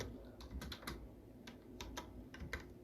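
Search query typed on a computer keyboard, a run of quick, uneven key clicks close up over a low background hum, with no talking.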